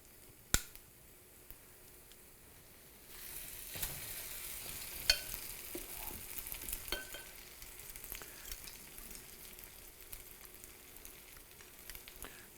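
Potato latkes fry in a pan with soft crackling that swells into a steady, fairly quiet sizzle, dotted with small pops and light clicks of utensils.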